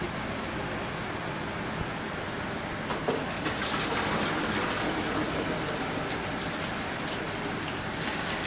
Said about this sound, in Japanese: 水切りしてます。